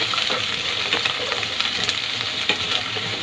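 Potatoes and carrots frying in oil in a pan, a steady close sizzle with occasional stirring scrapes and clicks, continuous and fairly loud with no talking.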